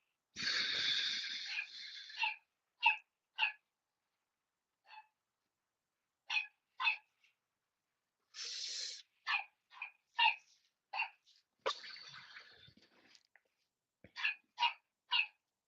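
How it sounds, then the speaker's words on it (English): A dog barks in short, sharp bursts, some single and some in quick pairs or triplets, separated by silences and interspersed with longer rough vocal noises; moderately close. "I see you messing with the dog"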